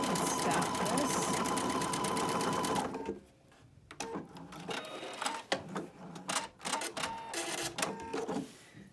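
A sewing machine stitches sequins in a loud, continuous run that stops abruptly after about three seconds, leaving quieter clicks and handling noises.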